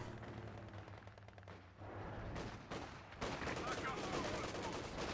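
Gunfire from Company of Heroes 2, a World War II strategy game: rapid bursts of small-arms and machine-gun fire with heavy thuds, loud and continuous across a busy battle soundscape, with a commentator's voice faintly present.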